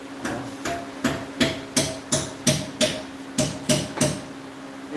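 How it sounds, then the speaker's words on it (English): Metal hammer strikes on the lip of a pipe, about a dozen sharp, fairly loud blows in an uneven steady rhythm, each ringing briefly over a faint background hum. "What are you hitting with a hammer?"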